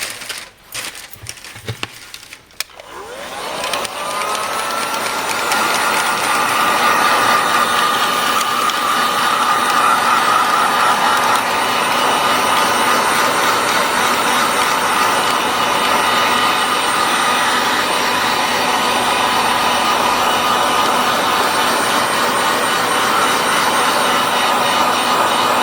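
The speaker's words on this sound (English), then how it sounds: "So now I'm just going to take my heat gun and I'm quickly going to heat this up." A heat gun blasts hot air onto hot glue in a silicone mould, starting after a few clicks and handling knocks, then holding a loud, even roaring hiss to the end.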